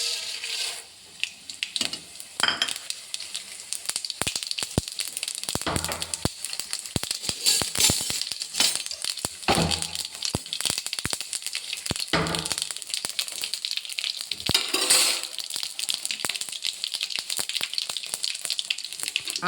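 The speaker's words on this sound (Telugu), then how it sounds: "ఆయిల్ పెట్టిన తర్వాత ఆవాలు, జీలకర్ర, మెంతులు, ధనియాలు, ఈ 4 కలిపి ఒకేసారి వేసేసుకుందాము" Mustard, cumin, fenugreek and coriander seeds sizzle and crackle steadily in hot oil, with a constant fizzing hiss, scattered pops and occasional stirring clatters from close by.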